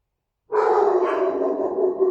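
A pet dog indoors gives one sustained, loud, close vocalisation after a moment of silence. It sounds more like a drawn-out, howling bark than short separate woofs.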